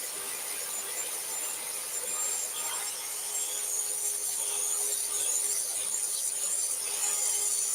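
Gentle, repeated hand sanding across a turned wooden vase to remove bandsaw marks, a steady soft rasping hiss that stays close and fairly quiet throughout, with no talking.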